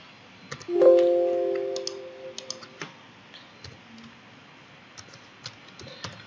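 Several sharp clicks of keys pressed on a Windows computer keyboard to enter a shortcut, followed by scattered lighter taps, close and clear in a quiet room.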